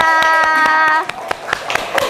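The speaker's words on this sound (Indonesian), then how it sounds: "Beri tepuk tangan untuk kelompok 3." Classroom applause for a student group: a handful of sharp, rhythmic hand claps, nearby and fairly loud, with a voice sounding briefly at the start.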